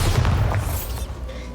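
Bombarda spell blast in the video game Hogwarts Legacy, a deep booming explosion with a sharp burst at the start and a rumbling tail that fades over about a second and a half, with no talking.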